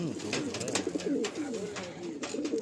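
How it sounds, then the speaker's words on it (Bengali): A lively pigeon in a Madrasi pigeon loft coos close by in repeated soft, throaty warbles. "খুব ছটপটে পায়রাটা না?"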